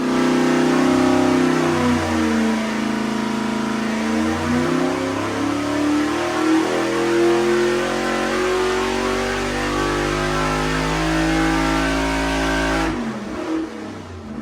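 A carbureted 434 small-block Chevy nitrous engine runs on a dyno, revving up and down in loud, close sweeps before the sound cuts off abruptly near the end.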